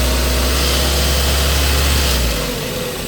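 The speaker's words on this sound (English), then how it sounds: "that noise, by the way, is the heat shield when you hear that rattling" A running Ford Focus Mk1 engine with a loose heat shield rattling, a loud steady close-up drone and buzzing rattle that continues throughout, easing slightly near the end.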